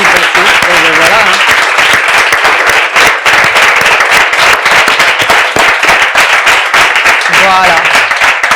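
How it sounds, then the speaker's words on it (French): Loud, dense audience applause at a church ceremony led by a pastor, continuous clapping filling the room throughout with voices calling out over it. "On applaudit très fort."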